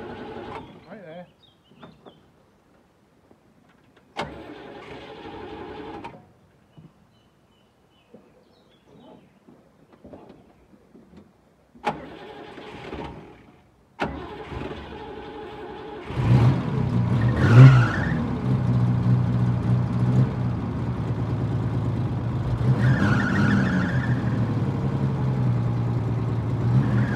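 A Unimog 404 left sitting outside cranks with sputtering bursts and pauses, then catches and settles into a loud, steady mid-pitched idle, with brief voices heard early on.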